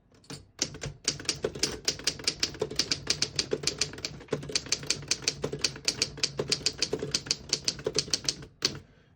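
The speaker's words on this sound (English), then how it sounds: "I'll type a sentence on the next line." Keys clack in a quick, steady run on a 1940 Underwood S vintage desktop typewriter, dozens of sharp mechanical strikes close up, with a brief pause midway and no talking.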